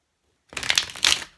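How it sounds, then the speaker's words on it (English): Tarot cards being shuffled by hand, a single brief riffling flurry of crisp papery flutters, close and moderately loud, after a moment of silence. "Let's just quickly shuffle those again."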